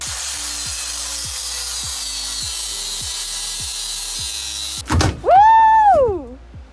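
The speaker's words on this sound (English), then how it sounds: "now we're ready to start sanding down the metal that was underneath all the rubber matting" A steady grinding rasp of sanding rusty metal on a bus floor runs continuously with a regular rhythmic scraping pulse, then stops and a loud whooping voice cries out.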